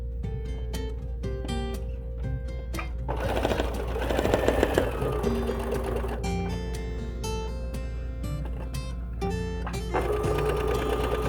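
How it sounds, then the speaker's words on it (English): Sewing machine chain stitching quilt pieces for a Christmas wall hanging quilt, its steady mechanical whir running nearly throughout, with brief pauses and restarts, close and clear without speech. "Just doing a little chain stitching."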